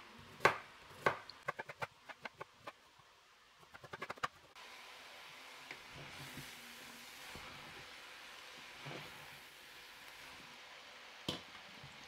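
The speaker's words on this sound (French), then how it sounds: "j'ai pris deux navets que je vais couper aussi en cubes" A knife chops turnips into cubes on a board, a quick run of sharp close taps that thins out after a few seconds into a quiet hiss, with a single chop near the end.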